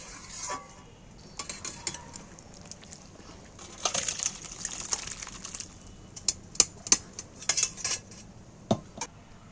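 Fried boiled potatoes go into a pan of jackfruit curry cooked with mutton fat, heard as irregular metallic clinks and scrapes of a utensil against cookware, sparse sharp knocks over a quiet background.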